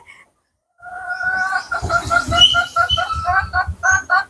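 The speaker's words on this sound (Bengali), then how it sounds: "সিল্কি মুরগি রয়েছে" Silkie cross chickens on a rooftop garden cluck in a quick series of nasal, pulsing calls, close and fairly loud, after a brief silent start.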